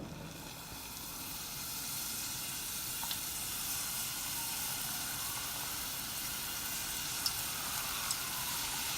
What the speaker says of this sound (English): now it's time to fry these things